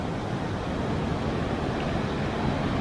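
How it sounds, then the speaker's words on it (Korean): Ocean surf breaks along the Big Sur coast of California below Kirk Creek campground, a constant broadband roar mixed with wind. No one speaks. "파도 장난 아닌데?"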